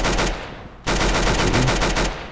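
Rapid automatic gunfire rattles in the Roblox game Arsenal: a loud burst, a brief dip, then a second sustained volley of closely spaced shots over a steady low hum, with no talking.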